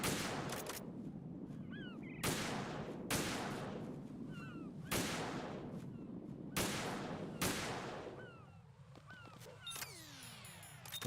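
PSG1 sniper rifle shots in the Metal Gear Solid video game: five loud single reports spaced a couple of seconds apart, each with a long echoing tail over a constant game background, with no voices.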